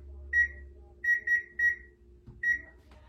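A kitchen oven timer beeps five times in an uneven pattern of short, bright, clear tones close by, with quiet kitchen hum underneath.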